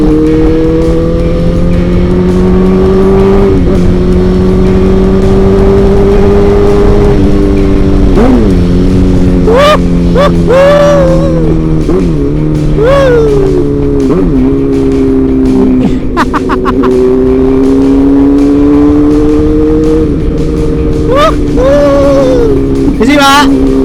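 A big motorcycle cruises along an open road, its loud engine droning steadily with periodic pitch climbs and dips as the rider shifts and throttles, all under constant wind rush.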